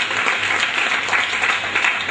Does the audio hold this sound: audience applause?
yes